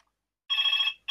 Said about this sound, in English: Bloody phone call.